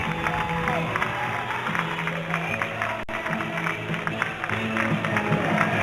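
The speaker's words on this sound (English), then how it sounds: "The crowd assembled this afternoon, Bob, has not stopped clapping since the first military unit went by." Spectators at a military parade honoring veterans of World War II, Korea, Vietnam and the Persian Gulf clap steadily, a sustained outdoor wash of applause with some cheering mixed in.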